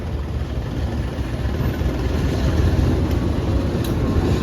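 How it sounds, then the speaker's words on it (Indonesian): A red and blue locomotive hauling a baggage car passes as a steady, close low rumble of engine and rolling wheels, fairly even in loudness, with no talk. "Ternyata kereta api atau lokomotif Red and Blue-nya ini membawa bagasi ya teman-teman."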